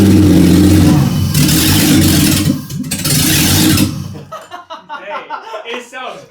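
A barn-find BMW E30 engine catches and revs, a loud rough roar that rises and holds for about four seconds before cutting off, followed by excited voices and laughter.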